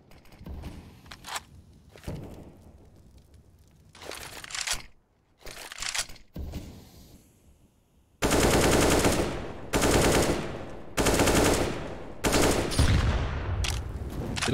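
Rifle gunfire sprays in a competitive CS:GO match on the Inferno map: scattered, quieter bursts early on, then loud, sustained automatic fire in long close-range strings.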